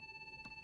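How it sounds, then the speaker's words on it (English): A phone ringtone from the video game Kingdom Hearts 3 chimes as steady electronic tones with a quick pulsing rhythm, faint and brief, with no voices. "His ringtone!"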